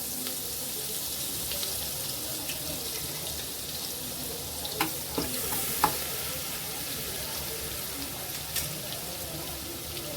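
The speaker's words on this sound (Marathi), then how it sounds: "आणि जे आपण लसूण आणि कोथंबीर थोडं खोबरं वाटलं होतं ते घालायचं फोडणीला आपल्याला" Ground garlic, coriander and coconut paste frying in tempering oil with asafoetida for a mixed vegetable dish: a continuous sizzle with scraping stirs and a few sharp clinks, close and moderately quiet.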